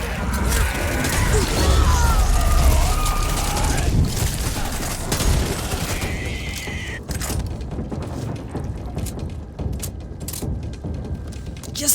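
Rapid gunfire in the zombie shooter Back 4 Blood: dense bursts of shots, booms and mechanical clatter packed into the first half, then scattered sharp shots over a quieter backdrop.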